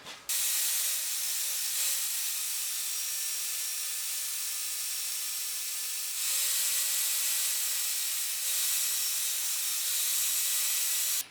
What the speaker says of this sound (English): Take your grinder.